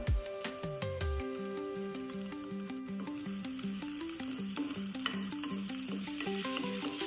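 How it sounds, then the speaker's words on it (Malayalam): Onion, mustard seeds, curry leaves and ginger garlic sauté in hot oil for a pearl spot fish curry, with a busy crackling sizzle and regular pulsing stirring strokes throughout, near and fairly loud, and no talk. "ഇത് എണ്ണ ചൂടായി വന്നിട്ടുണ്ട്. കുറച്ച് കടുക് ഇട്ട് കൊടുക്കാം."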